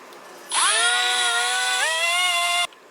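A power drill bores through a VR6 cylinder head stud bolt, a steady high whine lasting about two seconds that dips slightly in pitch midway before cutting off.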